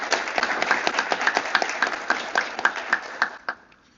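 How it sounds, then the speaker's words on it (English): Applause at a 2021 National Honor Society induction ceremony at MCHS: fairly sparse, evenly paced claps from a modest crowd, close and crisp, that stop abruptly after about three and a half seconds. "Let's have one more round of applause for our 2021 NHS inductees."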